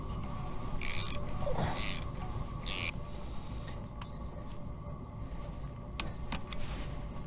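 Kawasaki ER5 motorcycle clutch bolts being tightened, heard as a few short, close ratcheting bursts and light metallic clicks against a quiet workshop hum.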